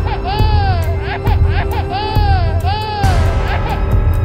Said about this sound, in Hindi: तभी अचानक उन्हें एक बच्चे के रोने की आवाज सुनाई देती है।